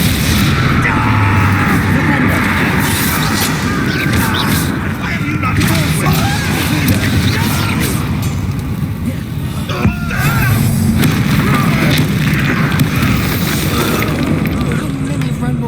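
Bombarda, an explosive spell cast in Hogwarts Legacy, goes off amid constant loud game noise, giving a sharp crash around the midpoint over a dense, steady rumble of combat effects.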